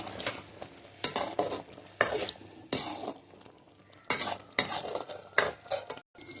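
Brinjal pieces frying in oil with ground spice powder are stirred in a pan, giving bursts of scraping and sizzling with brief pauses, fairly close and with no talking.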